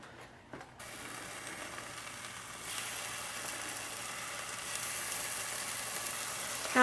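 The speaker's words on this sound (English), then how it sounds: "So now I'm going to get the bacon in." Bacon frying in a Dutch oven preheated to over 200 degrees gives a steady, moderately loud crackling hiss that swells after a brief pause near the start and carries on unbroken to the end.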